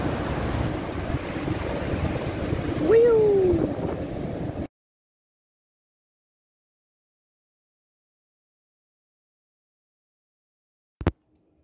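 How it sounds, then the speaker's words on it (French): Strong ocean waves wash onto a beach in a steady, windy surf roar for several seconds, then cut to near silence with one brief sharp noise near the end. "J'espère que vous m'entendez bien parce que les vagues sont très fortes en fait."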